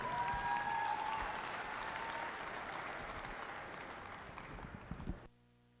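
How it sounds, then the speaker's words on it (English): Arena crowd applause for junior market lamb exhibitors at a livestock show, a steady wash of clapping that slowly thins and then cuts off abruptly near the end. "big round of applause for these exhibitors"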